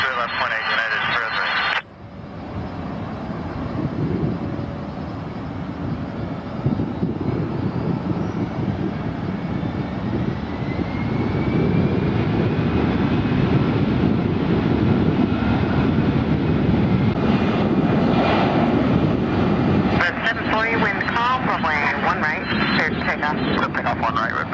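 Heavy jet airliners, including Boeing 777s, roaring on the runways at San Francisco airport during takeoffs, a loud sustained engine rumble building over about twenty seconds with air traffic control radio chatter heard over it.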